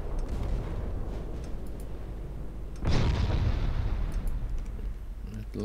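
Naval shells strike a heavy cruiser in the warship game Ultimate Admiral Dreadnoughts: a single loud, heavy boom bursts out partway through over a continuous low battle rumble, with no talking.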